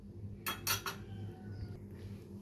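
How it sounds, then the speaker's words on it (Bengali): A metal kadai, a wok used to cook prawns with kochur loti, is set down on a stove with a few quick clanks close by, followed by quiet kitchen background. "একটা কড়াই নিয়ে নিয়েছি আমি এখানে।"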